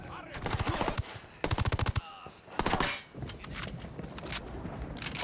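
Rapid bursts of automatic gunfire from a firefight in Ghost Recon Wildlands, several sharp clustered volleys close and loud, with shorter shots and clatter between them and a voice briefly speaking.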